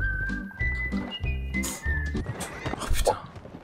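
A horse in Red Dead Redemption Online lets out a loud, shrill whinny, followed by hoof clatter and game sounds.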